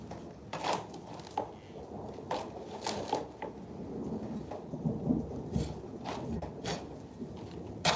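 Thunder rolls through a storm over a farm with mango trees, heavy rumbling bursts rising and falling over a steady wash of rain for the whole stretch.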